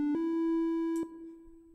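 Sustained electronic tone from an LMMS instrument with a reverb effect, a steady pitched note punctuated by two brief clicky attacks, then trailing off softer, heard alone.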